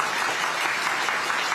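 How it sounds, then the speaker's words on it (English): A vast crowd at China's military parade applauds after a speech, a broad, even roar of distant clapping that stays steady and smooth for the whole brief stretch. "he's not really getting a massive applause again"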